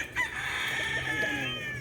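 Fighting roosters at a chicken farm in Tanauan, Batangas, with one close, loud crow holding long over clucking and other fowl noise.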